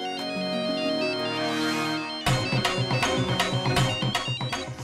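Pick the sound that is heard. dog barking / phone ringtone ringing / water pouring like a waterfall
phone ringtone ringing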